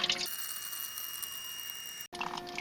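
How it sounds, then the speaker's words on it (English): A VECYS BYCZ581 hot and cold water dispenser with ice maker fills with water, a steady close hiss and rush that starts suddenly, runs evenly and cuts out briefly near the end. "and it's filling it up with water."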